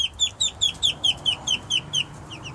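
Ducklings in a cage peep in a steady, evenly spaced series of about a dozen high chirps, close and clear over a faint low background.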